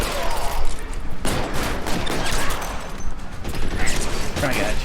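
Rapid bursts of gunfire in L.A. Noire during a PC shootout, repeated sharp shots and volleys crackling over a dense, busy background of action for several seconds.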